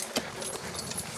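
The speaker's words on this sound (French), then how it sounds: "Il est vraiment au pas tranquillement" A draft horse at the Haras du Pin walks slowly while hauling, its hooves giving soft, regular clip-clops at close range over faint outdoor background.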